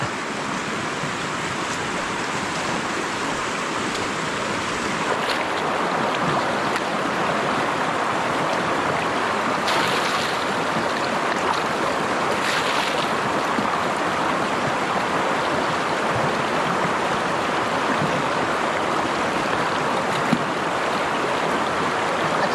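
Strong river current rushing steadily, a broad continuous wash of flowing water that stays loud and close from start to end with no voices.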